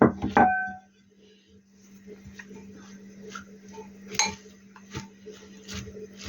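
Chopped Chinese cabbage salad with corn and onion being mixed in a bowl, light clinks and scattered taps of a utensil against the dish over a low steady hum.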